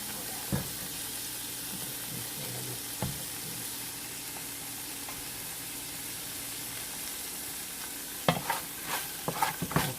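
Paneer curry frying in a pan on a home stove, a steady broad sizzle with occasional clicks and a few louder utensil scrapes and stirs near the end, no talk.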